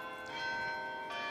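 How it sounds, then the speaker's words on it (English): Bronze bells of the Grace Cathedral carillon, cast from copper and tin, ring with a sustained, shimmering tone full of steady overtones, heard faint and somewhat distant with a soft strike partway through. "Our bells are made of bronze."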